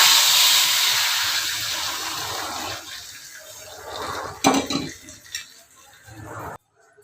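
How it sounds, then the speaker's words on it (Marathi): Hot tadka poured onto dal gives a loud, close burst of hissing sizzle that fades steadily over several seconds, with a few bubbling spits before it cuts off. "हा तडका डाळे टाकून घ्यायचा"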